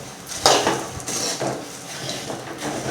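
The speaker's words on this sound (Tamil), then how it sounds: "பின்னர் பொரியை அதனுடன் கொட்டி நன்றாக கிளறி விடவும்." A spoon scrapes and knocks against a pan as spiced puffed rice (kaarapori) is stirred, giving soft repeated clinks and a rustling shuffle of the dry grains.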